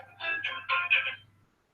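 A phone gives a short electronic ringtone, a quick run of bright warbling tones that stops after about a second, with a low hum beneath.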